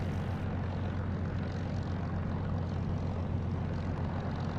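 Propeller engine of a Spitfire, a piston-engined fighter aircraft, taking off in the DCS flight simulator game: a steady, loud, droning roar with a deep throbbing rumble that holds continuously throughout, with no voices.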